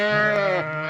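A single sheep gives one loud, close bleat, a wavering, nasal call lasting about a second.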